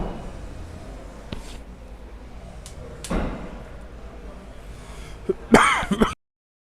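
A commentator at a 2022 axe throwing competition coughs and clears his throat, with a sharp burst near the middle and a harsher, rougher throat clearing toward the end, close and moderately loud against a quiet room.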